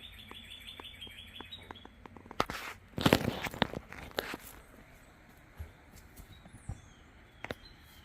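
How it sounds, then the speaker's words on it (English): Birds chirp outdoors, with short repeated calls near the start and scattered later tweets over a quiet ambient background, broken by a few louder crunching, rustling bursts around the middle. "Y'all hear the birds chirping."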